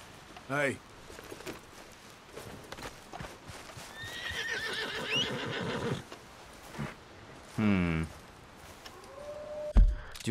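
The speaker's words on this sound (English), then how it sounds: "Do I want to try to take this horse into Valentine?" A horse in Red Dead Redemption 2 whinnies loudly twice, with a clip-clop of hooves and other game sounds in between, and a short whinny near the end.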